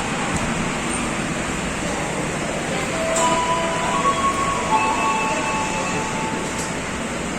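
A KRL commuter train at Grogol station gives a loud, steady rumble with faint metallic squeals and tonal whines, and no voices are heard.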